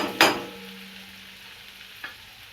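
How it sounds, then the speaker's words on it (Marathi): A Maharashtrian tempering for bharli vangi sautés in a pan with a steady, soft sizzle, broken by two sharp spatula scrapes near the start and toward the end, and no voices. "ते आता आपल्याला असं 2 मिनिटं परतून घ्यायचंय।"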